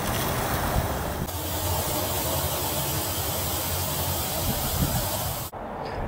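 Water spraying steadily from a freeze-cracked copper pipe elbow joint, a continuous loud broadband hiss and rush that runs unbroken before cutting off abruptly near the end.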